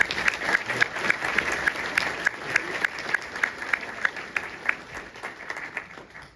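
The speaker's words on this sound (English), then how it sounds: "So you can give them a big round of applause too." An audience applauds ushers and volunteers at a town hall event, steady crowd clapping with sharp individual claps standing out, sustained at moderate loudness with no voices over it.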